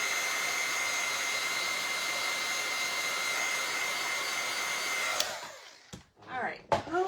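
A heat tool blows a steady, loud whooshing hum over a stamped paper card for about five seconds, then cuts off, leaving a few faint handling rustles and clicks.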